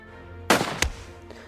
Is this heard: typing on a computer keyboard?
no